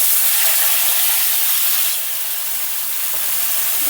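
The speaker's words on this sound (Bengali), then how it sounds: "জিরেটা দেওয়ার পরে আমি জল ঝরানো ঝিঙেটা আমি দিয়ে দিচ্ছি।" Drained ridge gourd dropped into hot oil with nigella seeds, giving a steady, close frying sizzle and hiss that dips slightly in level halfway through, with no talking.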